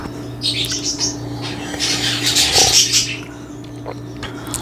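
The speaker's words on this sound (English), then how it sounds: "The birds are already awake" Birds chirp and tweet outdoors in the early morning, a run of bright overlapping calls at moderate distance that swells in the middle and fades toward the end over a steady low background hum.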